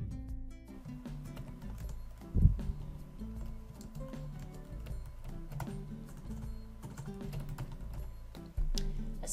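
Computer keyboard typing while entering a test plan name, quiet irregular key clicks in quick runs with a few heavier taps, nearby and alone without talk.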